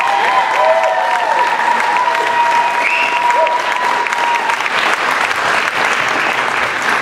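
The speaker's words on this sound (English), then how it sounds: "Another round of applause for Mike Oldfield." Sustained audience applause at a talent show for a contestant, loud and even clapping from a large crowd with faint tones and murmuring beneath it for the full duration.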